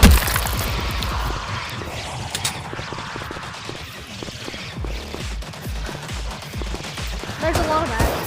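Video-game gunfire crackles in dense rapid bursts through the whole stretch, loud and close, with fast shots tumbling over one another under steady game noise and a voice talking over the action.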